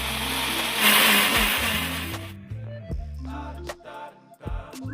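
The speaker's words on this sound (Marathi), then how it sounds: "कांदे, टमाटे, अद्रक, लसूण, कोथिंबीर एकत्रित कटिंग करून मिक्सरमध्ये बारीक करून घ्यावे" A mixer grinder whirs loudly as it grinds onion, tomato, ginger, garlic and coriander, running for about two seconds before stopping. Sharp clicks and knocks follow in the quieter stretch.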